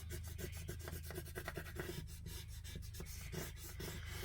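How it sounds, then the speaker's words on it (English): A bone folder is rubbed hard over paper on a handmade trifold Halloween card, making a steady run of quick, close back-and-forth scraping strokes with no talking. "I'm really going to burnish this down because I don't want it coming off"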